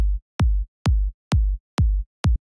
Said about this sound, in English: Just the kick drum sounds like this.